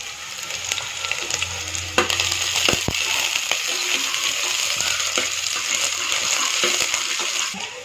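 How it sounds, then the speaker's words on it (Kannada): Hot tempering is poured into a mushroom sambar, producing a sustained sizzle and crackle with a few sharp clinks and pops of spices hitting the pan, close and fairly loud. "ಒಗ್ಗರಣೆ ಹಿಂಗೆ ಹಾಕಿದ ತಕ್ಷಣ ಎಲ್ಲ ಬೆಂದೋಗ್ಬಿಡುತ್ತೆ"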